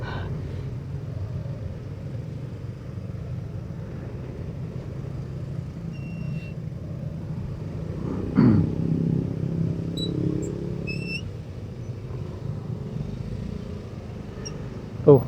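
Traffic crawls slowly on the road to Puncak Bogor, with cars and motorcycles making a steady low engine rumble throughout. A few brief louder swells and faint distant tones rise from the jam.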